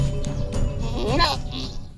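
A mother goat in labour bleats loudly and strains close by, one drawn-out cry over a low background rumble.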